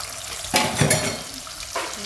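Ginger-garlic paste and chilli paste frying in a pan, giving a soft sizzle with a few scraping stirs and clatters of the spoon close by.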